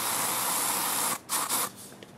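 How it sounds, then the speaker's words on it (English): Bug spray hisses from an aerosol can in a backyard where everyday items are set on fire: a loud, steady spray of about a second, then two shorter bursts before it stops. "Just a little bit more bug spray."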